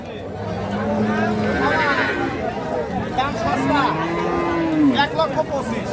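Several cows, including a young white Jersey cow, low at a crowded cattle market, one long moo rising near the end, while people talk and chatter in the background.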